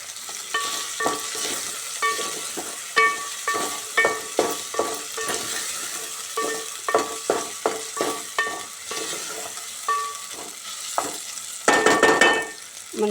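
Cabbage and soaked chana dal fry in a pan as a spoon scrapes and stirs in repeated bursts against a steady sizzle, with a louder clatter near the end.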